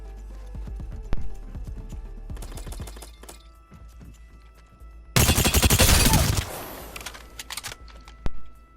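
Various guns fire in Apex Legends, with scattered single shots and a dense burst of rapid automatic fire in the middle, loud and close, among clicks and handling sounds and no talk.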